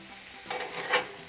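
A Delmonico steak sizzles in a hot pan, a soft hiss that swells into a brief louder burst of spatter toward the end, close and fairly quiet with no voices.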